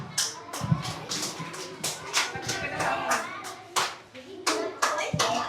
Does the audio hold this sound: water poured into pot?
no